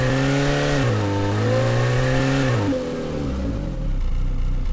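A synthesized engine from the AudioMotors v2 Pro plugin in RPM mode revs up and holds steady, then the pitch shifts as the revs change and drop at a gear change, loud and continuous with no voices.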